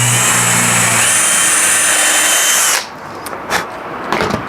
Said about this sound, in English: I'm going to take my drill and I'm gonna go in here with a pre-drill right here in the middle